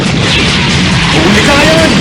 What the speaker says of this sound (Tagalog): Mga paputok lang yan ni Reka!